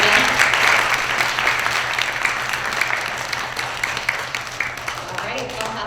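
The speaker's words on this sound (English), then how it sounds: "Let's give him a nice big round of applause again." Sustained applause from a school assembly crowd honoring a student of the month, a dense steady patter of many hands at moderate loudness, with faint talk mixed underneath.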